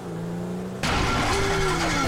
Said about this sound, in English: Now that doesn't sound good. Hey, that's the engine, man.